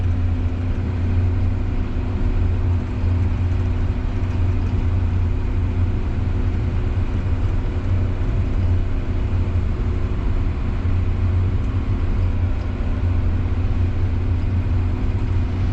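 A motor grader running down a gravel road while the road is prepared for winter, a loud continuous diesel engine drone with a steady low rumble from inside the cab and no talking.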